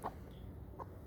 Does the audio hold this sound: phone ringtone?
no